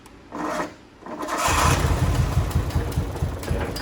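Nissan GT-R with a suspected faulty throttle position sensor, the engine idling and then held at a steady, rough mid-pitched run after a short burst. The note stays even, with no climbing rev, close by.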